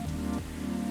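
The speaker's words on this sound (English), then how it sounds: "Listen to that. It's pouring rain again." Pouring rain in the video game Coffee Talk 2: a dense, steady rush of rainfall blended with a sustained tonal musical hum, continuous and fairly loud, with no speech.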